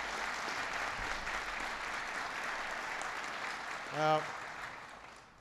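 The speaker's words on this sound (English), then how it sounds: "Give Gene a big round of applause" An audience applauds at a presidential economic announcement, a steady broadband clapping wash that continues under a voice and fades slightly near the end.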